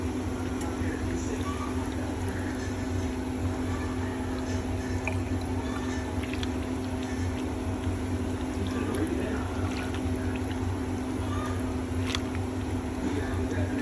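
Rendered pork lard strains through a strainer into a jar, giving soft squishing, dripping and trickling sounds against a steady background hum.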